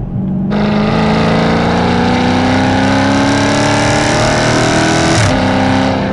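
A 2016 Dodge Challenger ScatPack V8 revs hard and loud up through the range, with a brief abrupt shift bark near the end before the engine note resumes, close and continuous with no talking.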